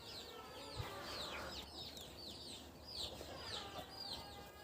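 Chickens in a farmyard poultry pen cluck in quick repeated bursts, with one hen's calls standing out close by, over a low background murmur.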